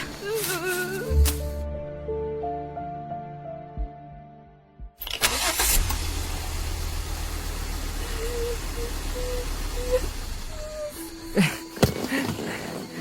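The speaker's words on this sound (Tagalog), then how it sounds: "Ayaw mag-start ng makina." A car engine on an outing is cranked but fails to catch, giving a strained churning that runs for several seconds after an earlier tonal passage, with a few knocks and thumps near the end.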